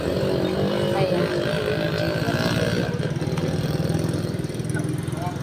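An engine runs steadily with a rough, throbbing idle close by, and people talk over it throughout.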